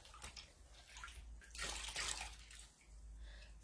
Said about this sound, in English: I've got my little water basin over here. I'll put it in and squeeze it out,